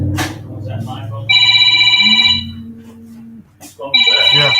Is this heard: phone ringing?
yes